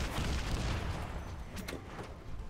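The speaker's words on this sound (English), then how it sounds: "So let us fire our rocket pods." Rocket pods fire in the steampunk mech strategy game Ironcast, a dense, rumbling barrage of booming launches rolling continuously for a couple of seconds, with sharper bursts near the end.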